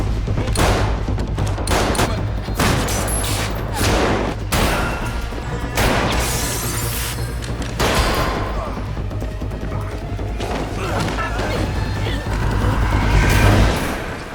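Gunfire erupts in bursts amid loud crashes and impacts in a thriller film scene, with dense, close action sounds dominating and a voice partly audible.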